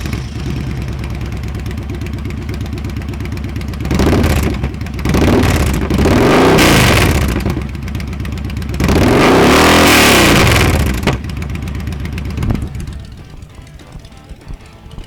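Victory Kingpin custom motorcycle with an RPW 2-in-1 exhaust, idling loudly up close and then revved in several strong swells, a deep growling roar that rises and falls before settling back to a rumbling idle.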